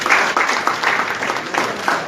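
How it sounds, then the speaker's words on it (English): An audience at a Junkanoo conclave gives the minister a round of applause, a short burst of close, busy clapping that stays fairly loud for its whole brief length. "We should give him a round of applause."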